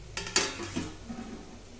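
A lid is set onto a pot of steaming colocasia rolls (alu vadi), giving a couple of close metallic clanks in quick succession followed by a soft, fading rattle.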